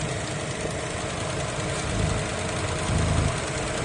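A 2017 BMW X1 engine idles at a low, steady rumble, even and quiet, with a slight swell in loudness near the end.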